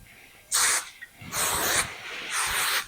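Three bursts of hairspray, each a loud, close hiss lasting about half a second, with short pauses between them.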